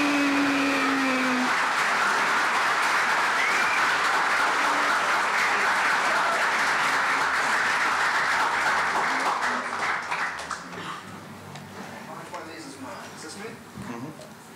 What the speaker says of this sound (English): So please put your hands together and let's hear a Chewie cheer for Mr. Pablo Hidalgo.